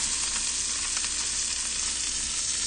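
Salmon sizzles steadily in a hot pan, a dense, even frying hiss that runs unbroken and fairly close, with no voices over it.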